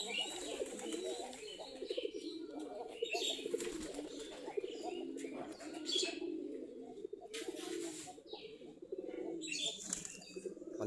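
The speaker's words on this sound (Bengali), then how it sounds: "আমাদের এখন প্রায় 40 জোড়া মতো কবুতর আছে" Desi Giribaz pigeons, around forty pairs kept in coops, coo softly with occasional chirps and brief bursts of wing flapping, all faint and fairly distant.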